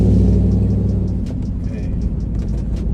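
A supercharged 2021 Ford F-150 with a Whipple blower pulls hard in second gear from low RPM on a slightly damp road, a loud, steady, deep engine rumble heard from inside the cab.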